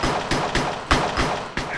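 Rapid gunfire in the Minecraft mini-game MineStrike, a series of about six sharp shots in quick, slightly uneven succession, loud and close.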